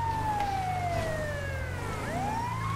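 An ambulance siren in the video game GTA V wails loud and close, its tone sliding down and then sweeping back up over a low engine drone, with no talking.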